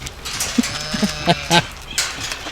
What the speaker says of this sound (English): Got Mildred mooing and got Peaches barking.